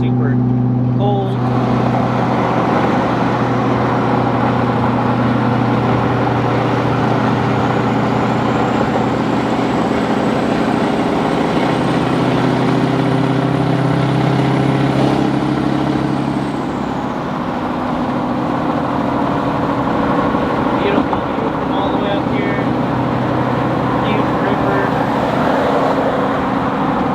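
A 2010 Ford F-350 with a 6.4L diesel engine climbing a grade, its steady loud drone and road roar continuous throughout, with a rising whine in the middle and voices talking over it.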